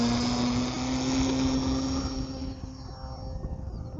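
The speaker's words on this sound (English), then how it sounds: "We're clear for takeoff." An E-Flite Piper Cherokee 1.3 m electric RC model airplane taking off, its motor giving a steady high whine with a tonal hum that holds loud, then thins as the plane climbs away.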